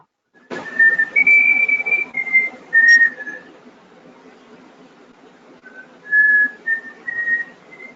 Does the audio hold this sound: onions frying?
no